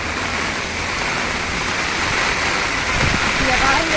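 Dense, steady rushing of heavy rain and running water, loud and continuous throughout, with a faint voice underneath.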